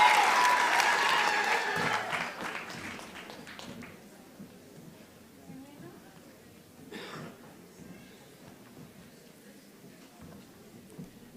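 Crowd applause at a university graduation ceremony in Windhoek, loud and dense for the first two seconds, then fading to scattered claps and light taps, with a small swell near the middle.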